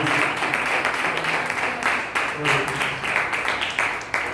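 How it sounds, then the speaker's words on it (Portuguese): Church congregation claps steadily throughout, a dense loud wash of applause filling the whole few seconds. "Aplauda mais uma vez ao Senhor."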